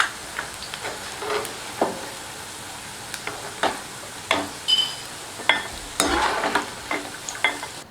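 Boondi, small drops of gram flour batter, frying in hot oil for Diwali laddu, giving a steady crackling sizzle broken by repeated sharp scraping clicks of stirring, close and moderately loud.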